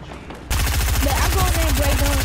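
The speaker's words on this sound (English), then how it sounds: "What a great gun. A great SMG." SMG fire in Fortnite, loud rapid automatic rattle starting abruptly and continuing steadily to the end, a tight even rhythm of shots with a faint in-game tone over it.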